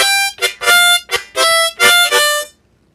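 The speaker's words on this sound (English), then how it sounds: "But then you add that tongue vamp there" A blues harmonica in 2nd position plays a short lick with a tongue vamp: five or six loud, bright, reedy chordal bursts in a choppy rhythm, close and alone, then silence.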